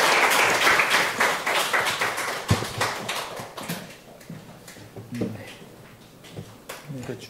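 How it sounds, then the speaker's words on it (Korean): A church congregation at a Sunday worship service breaks into applause to welcome a group forward, clapping loud and dense at first, then thinning into scattered claps as a voice speaks over it. "박수로 환영하겠습니다"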